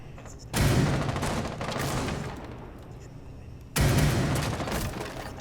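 Bursts of rapid gunfire ring out in a competitive video game shooter match, two loud sustained volleys of automatic fire separated by a quieter stretch, close and harsh.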